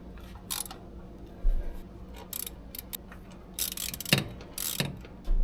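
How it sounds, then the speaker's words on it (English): A ratchet works loose the four carburetor bolts on a 1968 Buick LeSabre, giving quiet, irregular clicking bursts with short gaps between them, close by but faint overall. "now we're going to take off our 4 carburetor bolts and see if this thing will come off"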